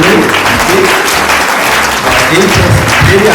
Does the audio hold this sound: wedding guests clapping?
yes